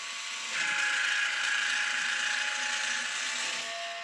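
A Woodland Mills Grindlux 4000 blade sharpener advances a sawmill blade with a steady mechanical ratcheting whir, one continuous close pass of about three seconds with no talk.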